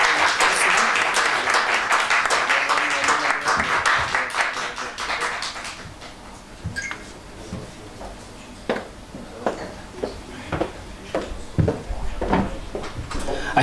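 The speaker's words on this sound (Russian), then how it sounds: "Светлана, эти аплодисменты для вас." Audience applause for a poet at a poetry and rock-ballad evening, dense and loud at first, then thinning into scattered individual claps that trail off toward the end.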